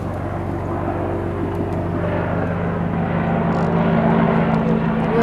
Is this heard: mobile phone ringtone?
no